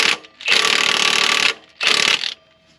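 Two bursts of harsh metallic rattling hammering drive a crank pulley onto its splines on a Toyota Celica engine: a long burst of about a second, a short pause, then a second, shorter burst, close and loud.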